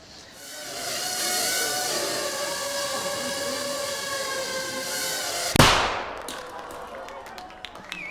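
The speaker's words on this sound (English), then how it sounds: "That little bang is enough to penetrate the skull and destroy the contents." A drone's tiny shaped charge of 3 grams of explosive detonates with one sharp, loud bang, cutting through a steady whirring hum that fades afterward into faint clicks.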